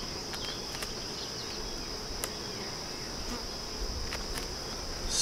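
Honey bees buzzing around an open beehive during an inspection, a continuous, faint, high hum with a few soft clicks and knocks over it.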